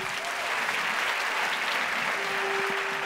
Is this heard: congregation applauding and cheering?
yes